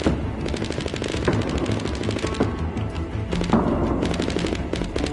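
Rapid rifle gunfire in the video game Fortnite Save the World, loud close bursts of repeated shots with short gaps, rattling continuously over a busy game background.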